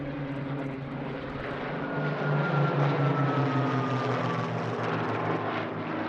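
Propeller aircraft in flight en route to Biggin Hill, a steady loud engine drone with a throbbing low hum and a slowly shifting tone, heard from close by with no talk.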